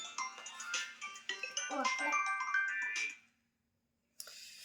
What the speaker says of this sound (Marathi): धीरज लोखंडे यांचे फोन आले आहे